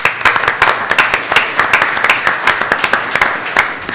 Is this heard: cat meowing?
no